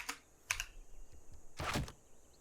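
Quiet computer keyboard typing during a Civilization 6 game session, with a few scattered key clicks, then a quick burst of keystrokes near the end, close and soft with no talk.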